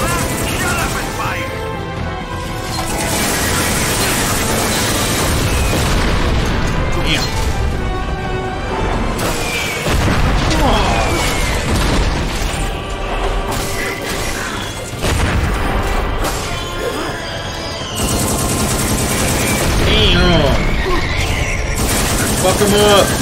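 Gunfire and explosions from the action video game Too Human, a continuous loud barrage of shots and booms with crashing impacts that keeps going for the whole stretch, with someone talking excitedly over it.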